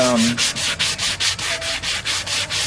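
A wooden bowl is sanded by hand with 80 grit sandpaper, a close, rhythmic rasping of about a dozen quick, even strokes with no talking.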